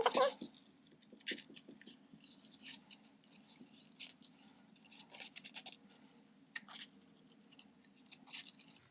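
Repeated crisp snips of scissors cutting paper during a craft session, close and quiet, in irregular bursts with soft rustling between them.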